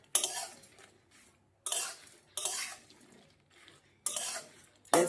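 Jujubes frying over low heat for pickle, stirred in a pan with a utensil in four loud bursts of scraping and clatter, separated by quieter stretches of faint sizzle.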